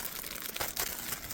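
Plastic bags holding thrifted clothing crinkle and rustle close by in a soft, continuous handling sound with a few sharper crackles and no talk.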